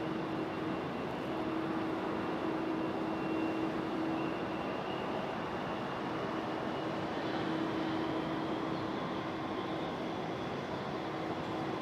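A JetBlue airliner's engines drone at Raleigh-Durham International Airport in stormy weather, a steady distant roar with a sustained whining tone and faint rising pitch, continuous and unbroken with no voices.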